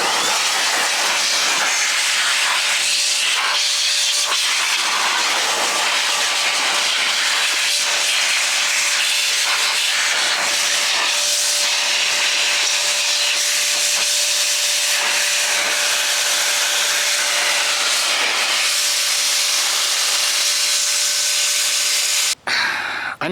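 Compressed air blasts water off the chassis and wheels of a dirty R/C car, a loud, continuous hiss with a faint steady whine held for over twenty seconds, then a sharp cutoff.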